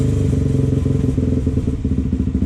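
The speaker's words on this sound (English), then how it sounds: "So you blip the throttle" A four-stroke dirt bike engine idles loud and close, then rises in a few quick throttle blips with a throaty, pulsing beat, and no voices over it.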